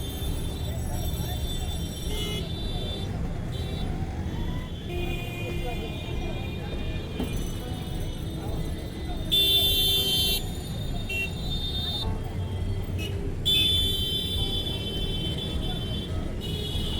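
Congested road traffic hums along while car horns toot repeatedly in short bursts, some close and loud, others farther off, with voices talking over the street noise.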